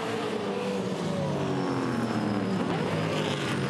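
A touring race car at Winton Motor Raceway roars past with a sustained engine note whose pitch sweeps as it goes by, loud and continuous throughout.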